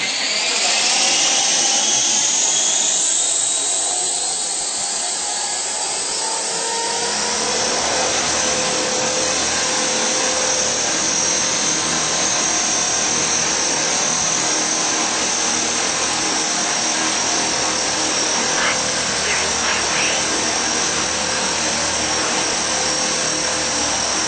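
A DragonFly 60 radio-controlled model helicopter's rotor and motor whine steadily and loudly throughout, a high-pitched drone with no talking.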